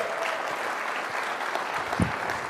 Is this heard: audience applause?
yes